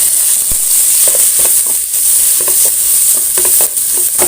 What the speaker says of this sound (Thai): เครื่องที่ตำไปครับ ใส่ลงไปผัด